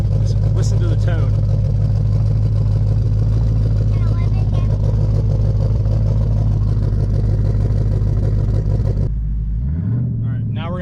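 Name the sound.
Mustang GT 5.0 axleback exhaust tone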